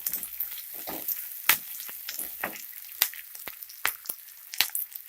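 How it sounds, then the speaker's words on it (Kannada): Green chillies frying with onions in a hot pan for matar paneer, a steady crackling sizzle broken by sharp pops and spits, close and fairly quiet, with no talking. "ಈಗ ಕಟ್ ಮಾಡ್ಕೊಂಡಿರೋ ಹಸಿ ಮೆಣಸಿನ್ಕಾಯಿ ಹಾಕ್ತಾ ಇದ್ದೀನಿ"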